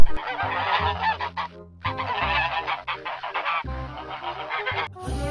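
Goose honking, a series of loud, harsh nasal honks in three bursts with brief pauses between, close and alone, from a toy animal.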